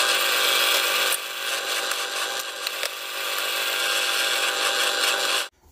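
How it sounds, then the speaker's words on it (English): A steady, loud high-pitched whine of a pillar drill running continuously, with slight shifts in tone as it bites into wood, then cutting off abruptly. "I'm going to drill this on the pillar drill"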